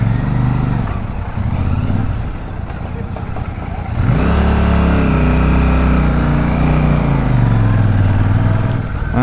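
A Royal Enfield Super Meteor 650 motorcycle engine runs steadily while riding, its loud, continuous drone rising in pitch after a few seconds as the bike accelerates on the road.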